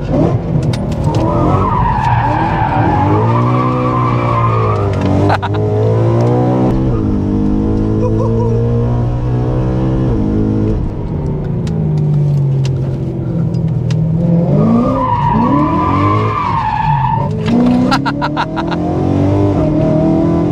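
BMW M3 E92 GTS, a very rare car limited to 150 units, driven hard with its engine revving up and down through gear changes and tires squealing in long skids, loud and close throughout with no speech.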